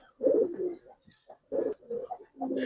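A pair of pigeons cooing up close, soft throaty bursts in three or four uneven phrases with short pauses between, alone and clear.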